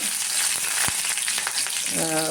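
Cumin seeds frying in groundnut oil give a continuous bright crackling sizzle with a few sharper pops, close and fairly loud, lasting a couple of seconds.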